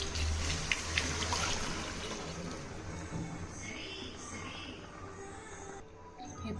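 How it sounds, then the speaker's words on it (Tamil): Beef soup stock is poured into rice for biryani, a soft trickling and splashing pour, fairly faint and close, with a person talking at times over it. "நான் வந்து தண்ணி ஆட் பண்ணுறதுக்கு பதில் இந்த சூப்பை ஆட் பண்ணிக்கிறேன்."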